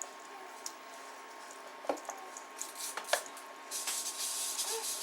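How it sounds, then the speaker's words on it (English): Shredded mild cheddar cheese is folded into a pork chop and hashbrown casserole mixture, giving soft, faint squishing and scraping with a few light clicks in a quiet room. "And I'm going to mix all this together."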